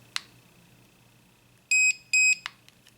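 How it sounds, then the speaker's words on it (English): A SEJOY S3 BlackStone 3 electric rotary shaver gives two short, clear electronic beeps in quick succession as its travel lock engages, framed by faint clicks from the button. "It'll just do these 2 beeps."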